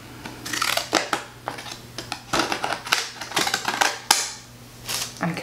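Decorative-edge scissors snipping through paper, a series of crisp crunching cuts in irregular bursts, close and fairly loud with no talking.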